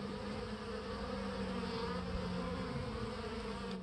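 Honey bees fly in and out of a hive entrance during robbing, a dense, continuous buzzing hum close by that stays level throughout.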